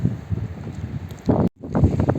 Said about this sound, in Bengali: এত জোরে হাওয়া দিচ্ছে বালি উড়ছে নদীর ধার দিয়ে